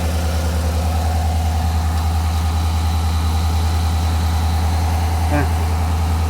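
A car engine idling steadily after injector and cylinder head repair, a continuous low rumble with an even throb, close and loud, with one brief clank near the end.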